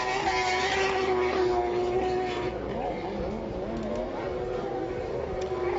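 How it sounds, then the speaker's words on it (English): A loud, high-revving racing personal watercraft engine drones steadily, whining and surging as it races close by at a Pro Watercross Tour event in Lewisville, Texas, with a voice talking over the roar. "Doesn't Johnny's boat just sound angry?"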